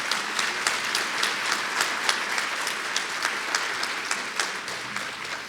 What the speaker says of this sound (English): Let's give a big round of applause for South Carolina's law enforcement